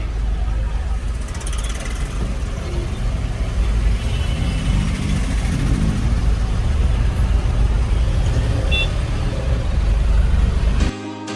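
Heavy traffic of buses and trucks on a road in Sanand keeps up a loud, unbroken engine roar, with a few faint higher tones over the steady rumble before it drops away abruptly at the end.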